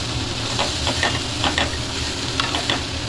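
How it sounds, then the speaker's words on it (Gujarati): Food sautés in a pan with a continuous sizzle and hiss. A spoon stirs it in soft scraping strokes now and then, heard close up with no talking. "સાતળી લેશું આપણે સરસ મજાનું."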